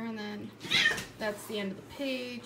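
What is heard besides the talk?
cats meowing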